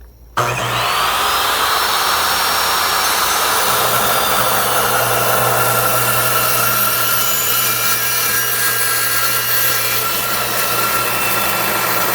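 A chop saw making a miter cut through wood, one steady loud whine and rasp starting abruptly after a brief quiet moment and continuing unbroken to the end.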